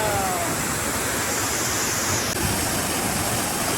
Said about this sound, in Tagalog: Tingnan naman yung falls.